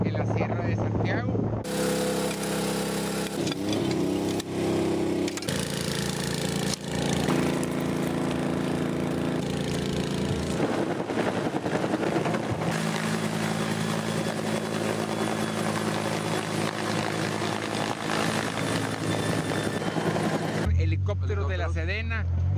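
A loud, steady helicopter rotor and engine drone from a helicopter at a wildfire in the Sierra de Santiago, Mexico, runs throughout, close by, with voices talking beneath it.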